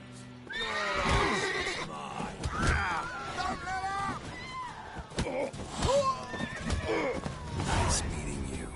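Horses in a video game neigh and whinny repeatedly in loud, close bursts, with hooves clip-clopping and thudding between the calls.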